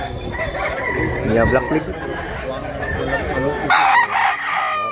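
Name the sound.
rooster crowing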